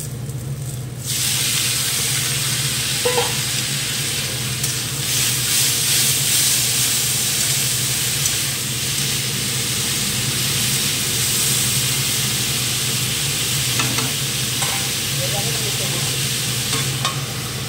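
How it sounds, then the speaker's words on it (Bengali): Snake gourd and potato frying in a pan give a steady, loud sizzle with occasional stirring scrapes, continuous throughout with no talking. "লাল লাল হয়ে যাচ্ছে চিচিঙ্গা ভাজা"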